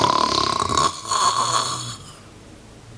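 A voice imitates Daddy Pig snoring during a children's read-aloud, two long rasping snore breaths in close succession, then quiet and a brief click at the end.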